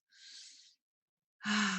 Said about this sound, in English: as you are breathing in and out, kind of breathing in the light